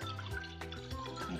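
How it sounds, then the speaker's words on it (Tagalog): Water poured from a kaldero into a cooking pot for soup, a short burst of splashing and gurgling with rising tones, fairly quiet and heard alone. "Maglagay ng tubig."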